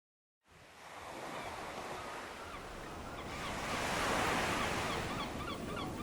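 Sea waves wash steadily onto Gopalpur beach in Odisha, a broad hissing surf that swells louder midway, heard alone with light wind noise on the microphone.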